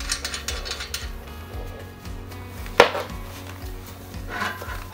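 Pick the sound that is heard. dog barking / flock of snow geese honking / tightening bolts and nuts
tightening bolts and nuts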